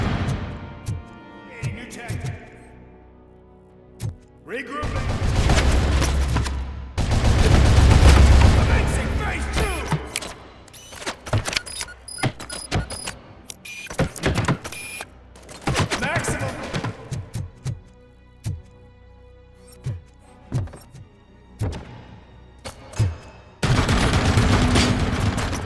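Automated turret gunfire in RoboCop Rogue City, bursts of rapid shots and booming impacts separated by quieter stretches, with someone talking between and over the firing.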